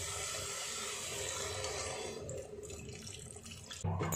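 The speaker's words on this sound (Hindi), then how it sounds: "अब हम इसमें पानी डाल देंगे।" Water pours steadily into a pressure cooker holding potatoes, peas, tomato and curd for a gravy, a continuous close splashing stream that thins out near the end before a brief clatter.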